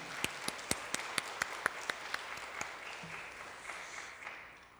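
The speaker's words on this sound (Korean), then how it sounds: "우리 한번 박수로 격려하겠습니다." A church congregation applauding the choir on Palm Sunday, a steady wash of many clapping hands with some sharper individual claps, moderately distant, slowly fading out at the end.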